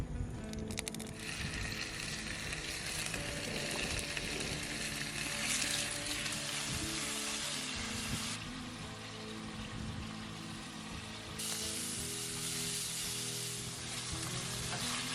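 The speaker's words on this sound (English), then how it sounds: "both meats are browned well in olive oil over a high heat" Wild boar and pork browning in olive oil over high heat produce a loud, continuous sizzle and spatter, with stirring noises and shifts in intensity across the whole stretch, no voices.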